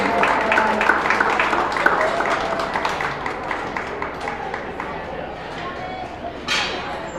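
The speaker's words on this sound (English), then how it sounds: "Let's give this young lady a round of applause for her champion" A crowd at a county beef show claps for a young exhibitor's champion heifer. Steady, rhythmic applause fills the ring, fading gradually.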